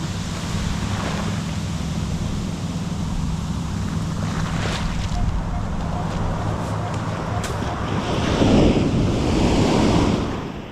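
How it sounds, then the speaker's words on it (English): Ocean surf rolls in with a continuous wash of breaking waves, buffeted by wind noise, swelling louder near the end. "Surf is coming in now, that's for sure."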